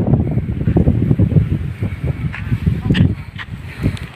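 Strong wind blows across a mountain hillside field in the Kendeng range, a loud steady rumble of gusts buffeting the microphone, while a person talks over it.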